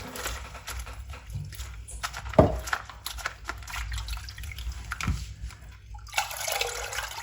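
Spinach leaves rinsed in water by hand, with close sloshing, dripping and splashing that rise and fall irregularly, one sharper splash partway through, and no voices.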